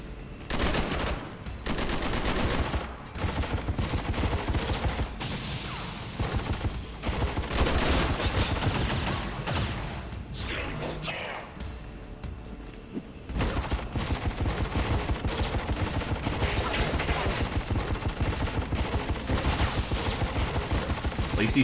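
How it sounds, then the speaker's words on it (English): Gunfire in the video game XCOM 2 crackles in dense bursts of rapid shots, loud and close, with a brief quieter lull in the middle before another sustained volley. "At least he's shooting the shooter boy over there."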